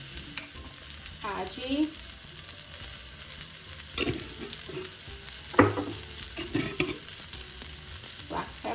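Food fries and sizzles in a pan for a home-cooked lunch, a steady hiss with intermittent stirring scrapes and clatters, close by; a brief word is spoken.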